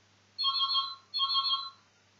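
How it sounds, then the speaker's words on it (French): A telephone rings with two electronic trill bursts, each nearly a second long with a short gap between, heard clearly indoors with no one speaking. "Ah, téléphone."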